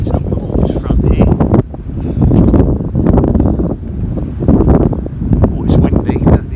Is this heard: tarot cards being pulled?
no